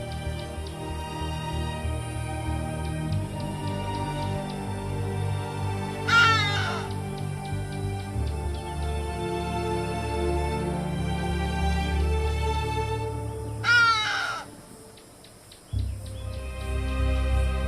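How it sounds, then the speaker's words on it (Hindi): A hadeda ibis, a common bird of southern Africa, gives two loud, harsh bursts of raucous cawing calls several seconds apart over a steady background of outdoor ambience. "हडीडा दक्षिणी अफ्रीका में पाई जाने वाली एक आम चिड़िया है"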